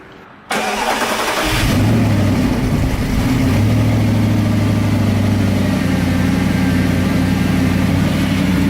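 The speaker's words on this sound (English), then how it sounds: "cold start on a stock 2008 Audi R8" Stock 2008 Audi R8 cold start: after a brief quiet moment the engine catches abruptly and loudly, revs high, then settles into a steady, droning fast idle close by, with no talking.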